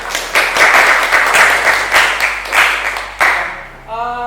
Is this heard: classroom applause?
yes